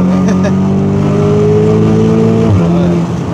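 A stage 2 tuned Audi RS6 accelerating hard, heard from inside the car as a loud, deep droning engine note that climbs steadily in pitch, with a brief dip near the end as it shifts.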